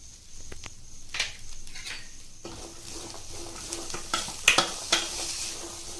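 Chickpea usli with fresh coriander being stirred in a hot pan, a steady sizzle under repeated scraping and clinking strokes of a spoon, close and fairly loud, with no talking.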